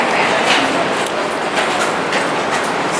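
Inside a tiny, cramped elevator, a steady loud rattling rumble carries on throughout, much like a passing train, with no talking over it.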